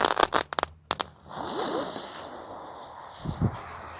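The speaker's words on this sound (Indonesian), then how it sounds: "Lanjut di sini ada mercon gangsing super 3 warna. Kita nyalakan." Spinning ground firecracker, a three-colour super spinner, crackles into life after being lit, with sharp pops at the start, then a steady hissing whir and a couple of low thumps near the end.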